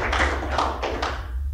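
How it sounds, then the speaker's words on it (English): An audience claps at a book talk, producing a brief, dense burst of applause that swells in a few uneven waves, loud and close throughout. "Well, clap for John,"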